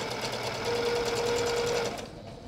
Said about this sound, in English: And just sew a straight stitch to make the channel.